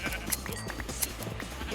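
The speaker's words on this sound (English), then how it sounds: "I'm gonna start breeding my sheep so I can get a lot of wool" Sheep bleat in modded Minecraft amid steady game background sounds, with a couple of short, sharp bleats standing out fairly close and loud.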